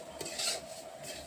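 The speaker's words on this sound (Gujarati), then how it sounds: "ઘી નાખ્યું છે અને એમાં નાખ્યો છે રવો. અને આપણે એક ધારા હલાવવામાં જ સેવી" A spoon scrapes and stirs semolina roasting in ghee in a pan: a short burst of close, gritty scraping with a light clink, alone and fairly quiet.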